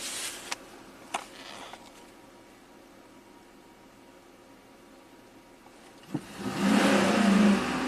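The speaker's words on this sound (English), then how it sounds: "Apply and hold brake pedal, start idle engine" A GM Chevy V8 engine sits quiet at first with a few sharp clicks, then cranks and catches near the end, building into a louder, rising engine roar.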